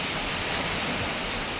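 Knee-deep floodwater rushes through a village during heavy cyclone rain, an unbroken broadband roar of flowing water and falling rain, loud and close and steady, with no talking.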